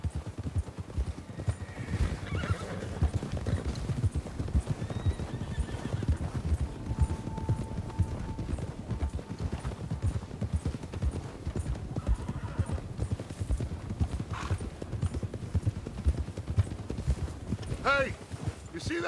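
A horse gallops in Red Dead Redemption 2, a steady rapid clip-clop of hooves with snorts and a whinny, while riders talk in the background.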